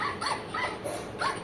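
A toy puppy in a Dear Zoo noisy sound book gives several short, high, electronic yapping barks in quick succession, close and fairly clear, with no voices.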